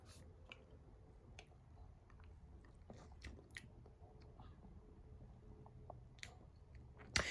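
Quiet close-up bites and chewing on a sweet apple-based snack come as soft scattered clicks and moist squishes over a faint background, ending with a sharper crunch.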